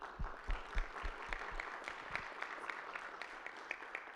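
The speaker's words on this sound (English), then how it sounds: "I think this is worth an applaud." Audience applause at a direct democracy forum session, fairly faint clapping from a scattered crowd, a few distinct claps early then a thinner, steady patter fading under room noise.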